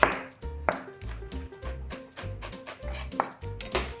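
A knife chops shallots finely on a board, giving close, crisp, rhythmic thuds at a steady quick pace, roughly two to three strokes per second, with no talking.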